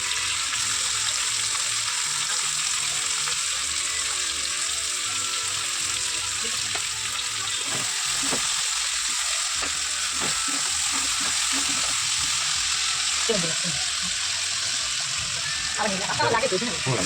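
Chicken curry fries in a pan with a steady, loud broadband sizzle that runs throughout, with occasional stirring clinks and someone talking over it.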